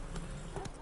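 Hooves of the horse Roach clop in the video game The Witcher 3, a quick run of soft thuds over a steady outdoor game background, a fraction of a second long.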